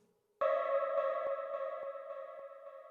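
A Digitakt II sample treated with echo and reverb effects: a sustained, bright synthetic tone that enters abruptly and rings with a steady, slightly pulsing repeat roughly twice a second, slowly decaying as the reverb tail lingers.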